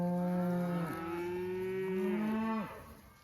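Cattle on a cold fall morning drive on a farm let out long, deep, overlapping moos, fairly loud and drawn out over steady outdoor background noise, with no talking.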